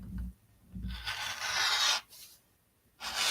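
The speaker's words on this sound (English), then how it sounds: "All I'm going to do now is cut from corner to corner." Sewn quilt fabric is cut from corner to corner, giving two close, steady rasping strokes, each about a second long, separated by quiet gaps.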